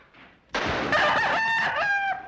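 A rooster crows loudly with a long, drawn-out call, preceded by a few soft clucks from chickens, in the 1941 film Hellzapoppin.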